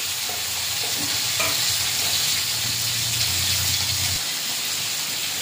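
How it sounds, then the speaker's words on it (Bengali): Prawns fried in a hot wok with panch phoron, onion and green chilli, giving a steady, close sizzle with some stirring scrapes that cuts off near the end. "আর দিয়ে দেব চিংড়ি। দিয়ে এটা ভালো করে ভাজা ভাজা করে নেব।"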